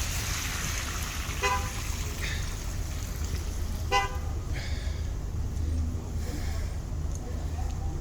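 Street traffic rumbles steadily as a city bus arrives, with a couple of short horn toots cutting through the low engine noise at mid distance.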